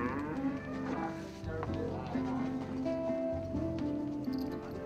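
Cattle moo in long, loud, overlapping lows at a rural Indian dairy household, several animals calling at once with steady farmyard noise beneath.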